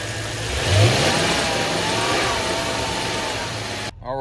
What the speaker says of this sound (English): All right, the vehicle is running